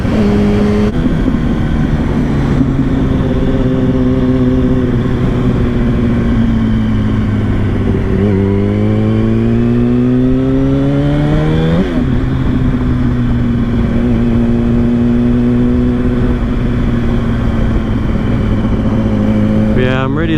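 A 2007 Yamaha R1 motorcycle engine drones loudly while riding, rising and falling in pitch through several gear changes, with a rider's voice talking underneath.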